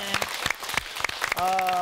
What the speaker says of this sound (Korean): 박수나 크게 한번